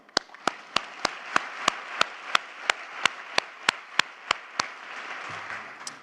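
Applause at a city's State of the City event, heard as sharp, evenly spaced claps in a steady rhythm, about three per second, standing out over a soft background murmur.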